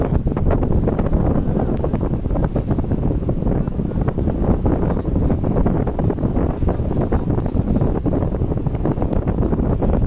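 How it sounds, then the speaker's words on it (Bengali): Strong wind on the Marine Drive near Teknaf roars and buffets the microphone continuously, loud and close, with a low rumbling undertone and no voices. "প্রচন্ড বাতাস, শুনতে পাচ্ছেন বাতাসের সাউন্ড।"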